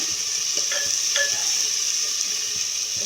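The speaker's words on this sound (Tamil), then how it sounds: "நல்லா வதக்கிக்கோங்க." Brinjal (eggplant) sautéing in a hot pan for a roasted brinjal subji gives a steady, close sizzle, with a few soft scrapes of stirring and no voices.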